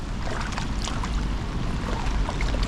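A strong river current after heavy rain, a constant loud rushing and churning of water, broad and steady throughout with no pauses.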